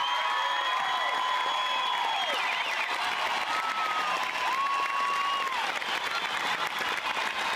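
A large concert crowd applauds, dense sustained clapping and cheering filling the whole stretch, with whistles and shouts rising above the roar.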